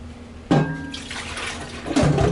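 Water gushes from a tap in two bursts, splashing into a basin below with a soft hum in the background, close by.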